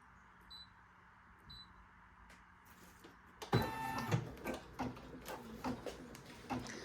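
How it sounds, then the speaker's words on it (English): An embroidery machine stitching a design starts up partway through, giving a rapid mechanical chatter with rhythmic loud bursts after a quiet stretch of faint beeps, close and alone. "And while this is embroidering"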